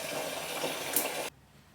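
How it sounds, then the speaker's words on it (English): Tap water runs steadily while a face is rinsed at a sink, a continuous splashing wash that cuts off abruptly near the end, leaving quiet. "Okay, now that I've massaged my face, I'm gonna rinse."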